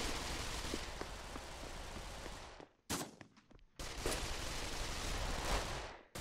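Gunfire in the VR shooter Pavlov rattles in sustained rapid automatic bursts, cuts to a few sharp isolated shots after a brief lull, then resumes as continuous dense firing.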